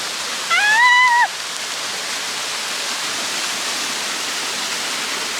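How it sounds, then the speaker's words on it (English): A small waterfall on a forest hike near Echo Lake in BC gives a steady even roar of falling water throughout, with a brief whistled or bird-like tone near the start. "now we have found the first smallest waterfall"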